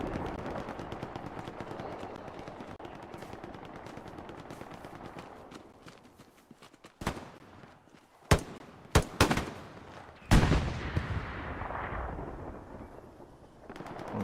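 Machine gun bursts and artillery booms in the Hell Let Loose shooter at Utah Beach: a constant rumble of distant battle, then several sharp, loud gunshots and blasts close by.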